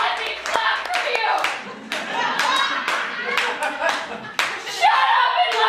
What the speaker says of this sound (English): Shut up and let me clap for you.